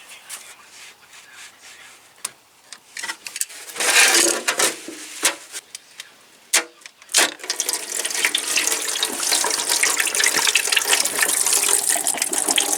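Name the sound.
engine coolant draining out of a Volkswagen coolant pipe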